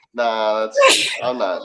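A single sharp sneeze bursts out between stretches of casual conversation at a football watch party, with a voice just before and after it.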